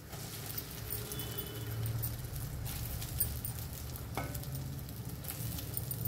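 Grated raw mango with salt frying in a hot oil tempering gives a loud, continuous close sizzle, with faint scraping from stirring now and then.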